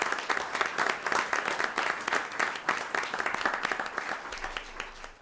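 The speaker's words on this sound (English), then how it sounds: "So let's give all of our recipients a big round of applause." Applause for grant recipients at a school board meeting, a room of people clapping steadily and fairly loudly for about five seconds before tapering off.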